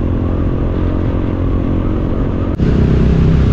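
A motorcycle engine runs steadily and up close while riding on a road, a continuous buzzing drone that steps up slightly in tone after a brief dip near the end.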